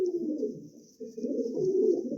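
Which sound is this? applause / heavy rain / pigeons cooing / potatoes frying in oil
pigeons cooing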